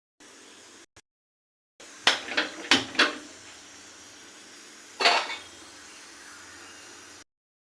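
Metal clatters against a pot while mushroom bati chorchori cooks, with a cluster of sharp clinks followed by a single louder clank as the lid is set down. Quiet hiss and brief silences surround the sounds.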